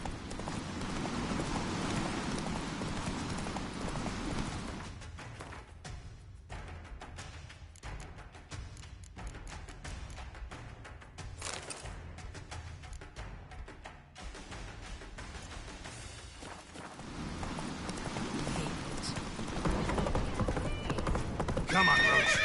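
In the video game Witcher 3, a horse gallops with steady, rapid hoofbeats and gives out a whinny, the clip-clop loud throughout and pressing on with few pauses.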